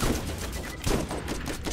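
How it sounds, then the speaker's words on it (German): Rapid, dense bursts of weapon fire crackle continuously in Borderlands, a turret launching a volley of homing rockets, loud and close. "mit unseren neuen Raketen, die unser Turm verschießen kann"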